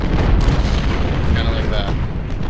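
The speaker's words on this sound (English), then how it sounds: "if they get close enough for the cannons to use canister fire, then we're going to rip the Confederates apart" Cannons firing canister in an Ultimate General: Civil War battle at Malvern Hill, a dense continuous roar of booms and rumbling blasts that stays loud throughout.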